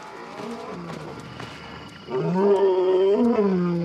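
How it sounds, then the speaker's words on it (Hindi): Two male lions roar in the wild to claim their territory, low throaty moaning roars that swell from a quieter start into a loud, drawn-out call. "दो नर शेर अपने 60 स्क्वायर किलोमीटर के इलाके में मालिकाना दहाड़ लगाते हैं"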